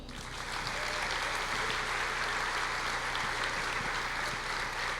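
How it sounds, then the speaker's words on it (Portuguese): A church congregation applauds the Lord during a Portuguese-language sermon, a steady, even wall of clapping from a large crowd that holds for several seconds. "dê um aplauso ao Senhor"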